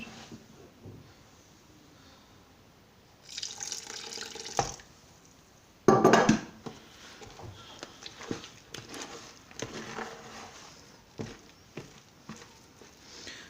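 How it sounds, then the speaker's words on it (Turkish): Water added to homemade bread dough, a faint trickle with a couple of louder splashy pours and scattered wet mixing noises, close and without speech. "Bu arada biraz daha su eklemem gerekiyor."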